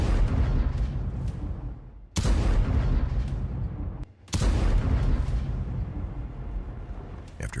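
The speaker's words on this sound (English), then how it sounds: "Ukrainian tank drives straight to captured building and opens fire." A Ukrainian tank's cannon fires at a captured building in a combat zone: loud, heavy booms come every couple of seconds, each followed by a long rumbling decay, with no voices.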